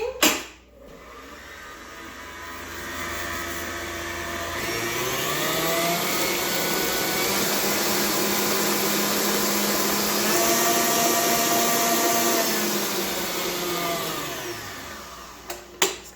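An electric mixer whirs through buttermilk cake batter for a brown sugar cake, ramping up after a click, holding a steady loud motor drone with slight pitch shifts, then winding down near the end.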